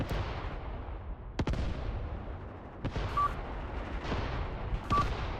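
Heavy gunfire, attributed to a Maxim machine gun in the Mius Front war game, lands in several sharp, booming bursts over a constant rumbling battlefield backdrop, some shots close and others more distant.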